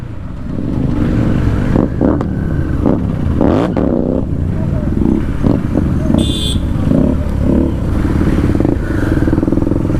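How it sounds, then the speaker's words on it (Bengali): A motorcycle on an open road revs its exhaust, a loud continuous engine roar with rising and falling surges and occasional clattering. Voices talk briefly over the engine. "ও অপিট গাই ভাই পুরো এক্সজস্টের মজা নিচ্ছে।"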